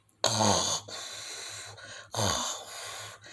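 A voice imitates snoring: two long, rasping snorts with breathy hiss, each followed by a softer drawn-out breath, close and loud.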